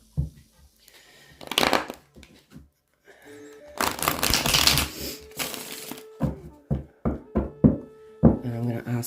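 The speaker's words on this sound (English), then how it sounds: "I'm just going to shuffle them again." Tarot cards are shuffled by hand in several close, crisp riffling bursts with taps and knocks between them, and someone speaks intermittently.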